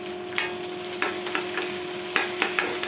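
Onions with curry leaves and ginger-garlic paste sauté in a pan for a stingray fish curry, with a spatula scraping in irregular strokes over a steady sizzle, close and without talk.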